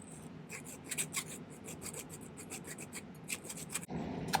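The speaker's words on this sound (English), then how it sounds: "I'm going to file a little bit of excess solder out of the inside" A metal hand file rasps excess solder from the inside of a silver ring, producing steady close scraping strokes in a continuous rhythm, then a brief pause and a denser rasp at the end.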